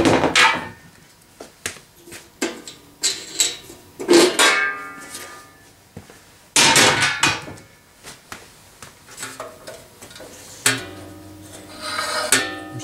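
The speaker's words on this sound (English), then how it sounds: "So let's go ahead and change blades out." Blade change on a Delta bandsaw brings a string of sharp metallic clanks, knocks and rattles at irregular intervals, some ringing briefly, close up with quiet gaps between and no talking.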